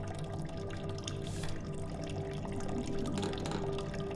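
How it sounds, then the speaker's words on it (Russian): Water runs steadily from a bathroom tap in the horror game The Nightfall, a soft continuous splash and trickle heard up close without pause. "Включим воду."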